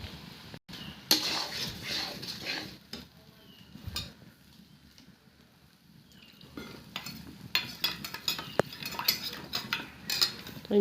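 Mixed spices being stirred into a pan, a spoon scraping and clinking against the metal in irregular bursts over a faint sizzle, close and fairly quiet.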